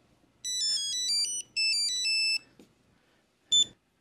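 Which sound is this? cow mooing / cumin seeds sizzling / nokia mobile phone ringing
nokia mobile phone ringing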